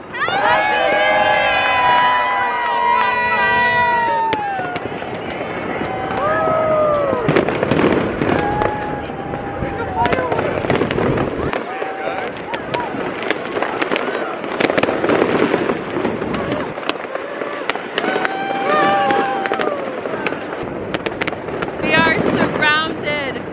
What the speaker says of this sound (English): Every direction, fireworks